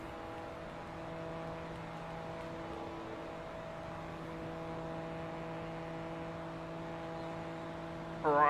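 A Porsche sports car engine in Forza Motorsport 2 holds a steady, faint high-revving drone with constant tonal whine throughout, rising in loudness just at the end.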